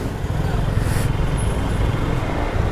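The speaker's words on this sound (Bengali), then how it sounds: "Suzuki Gixxer" A Suzuki Gixxer motorcycle rides through light city traffic, its low engine rumble and wind noise steady and close, with a voice talking over it.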